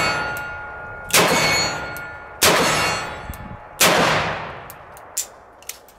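Three loud, sharp gunshots from a cut-down Smith & Wesson Model 29 .44 Magnum revolver, evenly spaced about 1.3 seconds apart, each with a ringing decay, followed by a few fainter metallic clinks.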